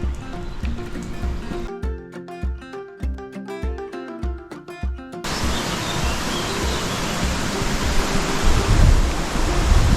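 A river runs beside an old mule track near the abandoned Calcaferro mine, a steady broadband rush of flowing water that grows loud and fills the second half, after a stretch of music at the start.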